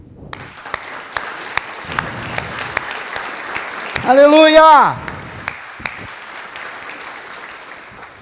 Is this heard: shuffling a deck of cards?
no